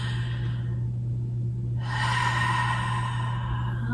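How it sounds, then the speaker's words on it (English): A slow, deep yoga breath taken during a seated pranayama session, heard as a soft, airy rush that swells after a quiet start and carries on to the end of the clip over a steady low room hum. "Let's take a breath."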